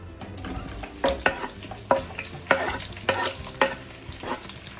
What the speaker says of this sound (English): now continuously stir and fry the onion on high flame